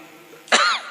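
A single sharp cough, close and brief, after a moment of quiet.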